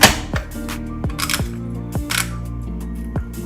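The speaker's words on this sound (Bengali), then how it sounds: "এখন আমি প্রেশার কুকারটা লক করে দিই" A pressure cooker lid is locked into place, producing a series of sharp metallic clicks and clanks with brief ringing tones, close and fairly loud, spaced irregularly over a few seconds.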